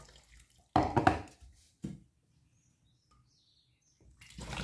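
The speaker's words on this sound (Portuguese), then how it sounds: "E agora aqui, você completa aí de água" Water splashes into a container holding eggshells to make a homemade plant fertilizer, in short bursts of pouring and trickling separated by quiet gaps, close by, with faint drips in between.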